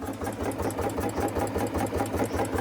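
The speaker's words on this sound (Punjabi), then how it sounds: "ਤੇ ਇਹਦੀ ਇੰਜਣ ਦੀ ਸਾਊਂਡ," A Royal Enfield Bullet motorcycle with a bent silencer idles steadily nearby. It gives a low, even, thumping pulse with a mechanical rattle above it, and no one speaks.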